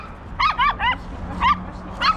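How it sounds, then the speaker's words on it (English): Dogs outside a Moscow apartment block give five short, high yips and barks, three in quick succession and then two more spaced apart, clear and fairly close over a low background hum. "look at these beautiful dogs"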